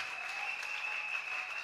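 A church congregation applauds steadily, a dense sustained wash of clapping heard from within the room, moderately distant and even in level, with a faint tone running beneath.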